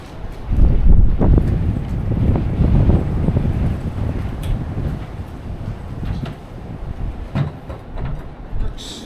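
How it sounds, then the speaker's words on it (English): Strong wind buffets and roars in low gusts against the microphone, loud and continuous with occasional rattles. "It's windy! And a squall's coming!"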